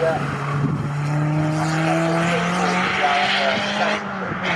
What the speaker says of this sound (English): Craig Hamilton Smith just spun at Ritchie's